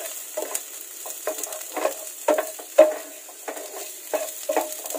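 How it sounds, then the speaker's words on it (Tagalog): Pork pieces frying in a pan over low-medium heat until golden brown: soft sizzling broken by repeated spatula scrapes and clinks, close and fairly loud, with no talking. "lutuin nyo lang to in low-medium heat hanggang mag-golden brown"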